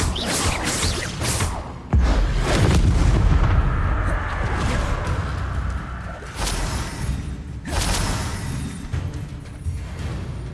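Repeated blasting-spell explosions in Hogwarts Legacy hit hard and close, a heavy boom near the start followed by further sharp bursts and whooshes spread over about ten seconds.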